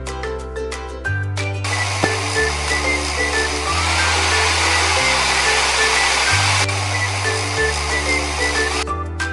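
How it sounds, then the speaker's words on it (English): A hair dryer blows hot air onto a crayon to melt it, a loud steady whirring hiss close to the microphone, with changing musical tones playing underneath throughout. "Melt the crayon with a hairdryer."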